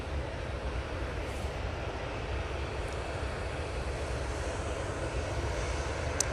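An Emirates cargo jet in Courier Express livery taking off at Manchester on a tech flight, a steady, dense engine roar that stays loud and even throughout, no voices.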